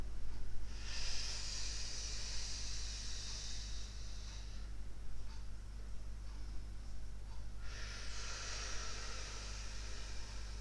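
Steady, audible breaths drawn in and pushed out during a pilates stretch for the calves and hamstrings: two long airy exhalations, each lasting several seconds, separated by a quieter pause, over a low constant hum.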